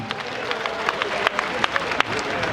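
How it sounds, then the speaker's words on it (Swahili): A crowd applauds in welcome for Bishop Isaac at a gathering, with steady clapping and scattered sharper claps across a couple of seconds, fairly close and continuous. "Tupigie makofi tafadhali"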